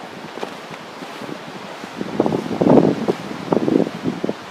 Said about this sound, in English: It's pretty windy today